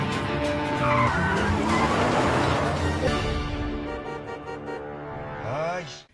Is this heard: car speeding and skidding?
yes